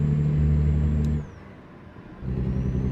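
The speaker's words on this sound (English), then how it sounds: "you're not going to watch it if you can't hear me because of the engine sound of the truck" A Peterbilt 579 truck engine in American Truck Simulator hums with a steady, close drone, briefly drops away to a quieter lull, then swells back up, with no voices.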